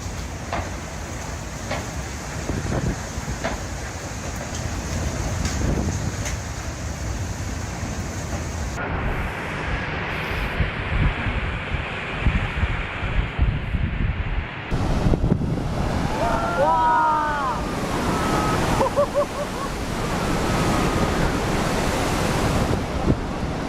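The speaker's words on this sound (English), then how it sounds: "Here is footage of the Pacific Ocean during a cyclone." Pacific Ocean surf during a cyclone roars with heavy crashing waves and gusting wind buffeting the microphone, a loud, continuous churning rumble that surges and shifts over a long stretch.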